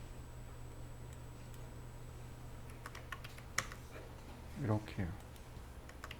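Keys clicking on a computer keyboard while drafting in CAD software, a light scattered run of taps under steady background hum, with a brief spoken remark near the end.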